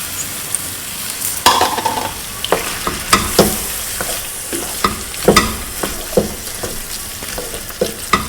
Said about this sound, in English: And mix it all in nice and make sure it's all mixed well.